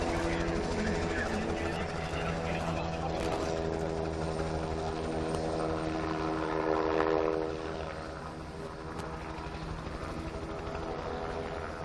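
A helicopter flying backwards with its tail toward a fixed point during an aerobatic show at a helicopter expo in Tianjin, China: a continuous rotor and engine drone with a steady hum, heard at a distance throughout.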